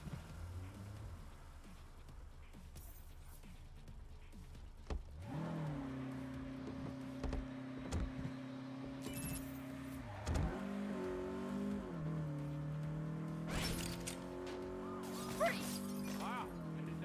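Car in the video game Saints Row revving and pulling away, a loud steady engine drone rising in pitch through several gear changes, with crashes and breaking sounds scattered over it.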